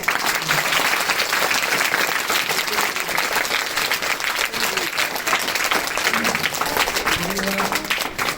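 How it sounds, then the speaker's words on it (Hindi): Dense audience applause for a guru at a patriotic poetry gathering, loud continuous clapping throughout with a few faint voices underneath. "तो ऐसे गुरुदेव के लिए एक बार ताली बजा के"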